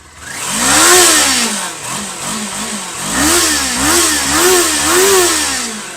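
A 2019 Kawasaki Ninja 400 engine revs repeatedly, pitch rising and falling in several loud swells, close up with no talking.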